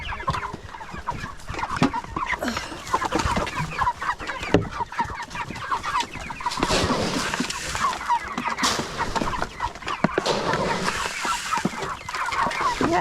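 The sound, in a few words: chickens clucking during evening feeding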